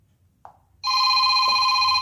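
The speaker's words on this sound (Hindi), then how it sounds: "इन पर क्लिक करके यहाँ पर कोई रिंगटोन सेलेक्ट करिए" A ringtone preview plays on a Jio Phone Next after a short tap: a loud, sustained electronic ring that continues to the end, close to the phone and with no speech.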